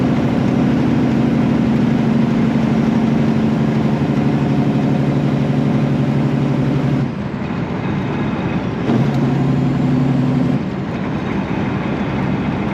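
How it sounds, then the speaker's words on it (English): Side-by-side UTVs cruising down a road, their engines giving a loud, steady droning hum close by that drops away briefly partway through and then returns. "We just got side-by-sides cruising down the road here"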